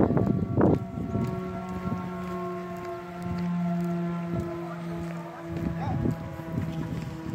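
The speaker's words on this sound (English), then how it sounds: "There's another siren going off." A tornado warning siren wails in the distance, its steady tones holding and wavering across the clip, while nearby voices talk over it at the start and in short bursts.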